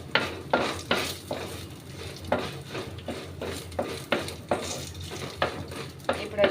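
Asafoetida tempering frying in a pan while a spoon stirs it, giving close, repeated scraping strokes in a steady rhythm over a low sizzle, with no talking.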